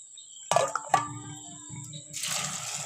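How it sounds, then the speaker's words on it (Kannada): A couple of metallic knocks, then water pours steadily into a pressure cooker holding mixed vegetables, a continuous splashing rush that lasts until the end. "ಅದಕ್ಕೀಗ ಸ್ವಲ್ಪ ನೀರು ಹಾಕೋಣ"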